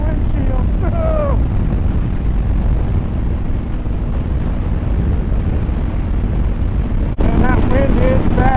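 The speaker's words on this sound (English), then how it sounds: "Man, but that wind is something else without a windshield." Heavy, steady wind buffeting roars across the microphone while riding a 2013 Harley-Davidson Dyna Wide Glide with no windshield, loud and continuous throughout, with a brief drop and a sharper burst near the end.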